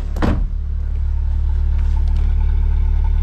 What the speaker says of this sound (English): as you can hear, car runs super smooth.